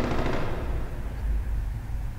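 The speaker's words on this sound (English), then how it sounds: "Did you just practice shooting?" Gunfire in the video game Dying Light, a heavy burst of shots at the start that trails into a rumbling, fading echo, loud and alone without talk.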